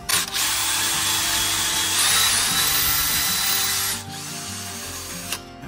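A cordless power drill fitted with a DEWALT hex-shank extension bit whirs loudly and steadily, spinning up at the start and slowing briefly near the end, close and alone.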